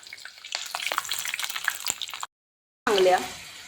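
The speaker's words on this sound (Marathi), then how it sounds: "यामध्ये आपण मोहरी, जिरे घालणार आहे." Mustard seeds and cumin hitting hot oil for Khandeshi brinjal bharit, a close crackling sizzle that cuts out briefly and then bursts back loudly.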